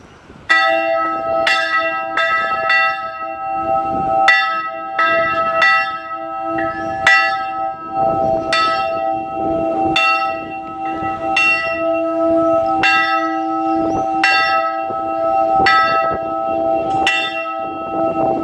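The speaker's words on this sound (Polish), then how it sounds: "nie byłbym sobą, jakbym sobie tam dzwonnicą nie przydzwonił" Church bells ring from a belfry in Petrovac, Montenegro, loud and close, with repeated overlapping strikes in a steady pattern and long humming tones that sustain throughout.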